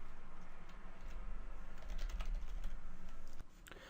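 Keys clatter in quick, uneven bursts on a computer keyboard as a student number and password are typed in, close and fairly quiet with brief pauses between runs of strokes.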